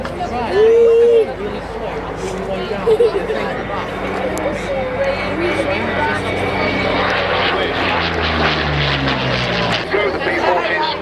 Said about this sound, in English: Go the P-40s